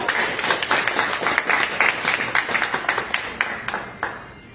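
Audience at a Toastmasters club Halloween tall tales contest applauds a contestant, a smaller group clapping in a brisk, rhythmic patter that thins out toward the end.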